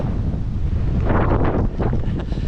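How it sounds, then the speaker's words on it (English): A strong gust of wind buffets a GoPro microphone on the Offa's Dyke Path near Castell Dinas Bran above Llangollen, producing loud, continuous rumbling roar that swells and surges throughout. "That was quite a gust."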